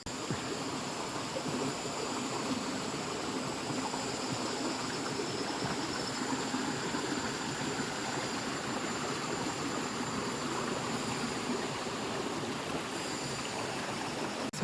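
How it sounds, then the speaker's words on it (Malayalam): A small forest waterfall at Vazhuvanthol pours into a stream, giving a constant, even rush of water that stays steady and fairly soft, with no voices or other sounds. "ഈ വെള്ളച്ചാട്ടത്തിൻ്റെ സൗണ്ട് മാത്രമേ ഉള്ളൂ കേട്ടോ"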